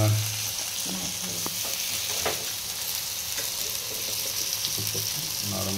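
Bombay duck (bombil) fish fries in hot oil in a pan with a steady, loud sizzle, while scraping and clattering of a spatula mark the fish being flipped.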